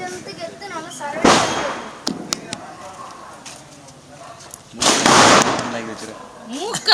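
Diwali firecrackers go off in sharp loud bangs and bursts, two big crackling explosions and several quick pops, while people talk and call out between them.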